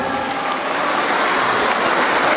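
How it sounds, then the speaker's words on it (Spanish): Applause from an audience at an evening Father's Day event, dense continuous clapping that is loud and steady throughout, with no voices standing out. "Más fuerte el aplauso para estas lindas."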